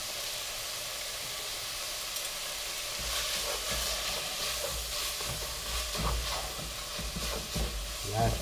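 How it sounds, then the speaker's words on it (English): Plantains frying in a pan over high heat give a steady close sizzle, with stirring scrapes and clatter that rise partway through. "Finishing touch while the last plantains are cooking."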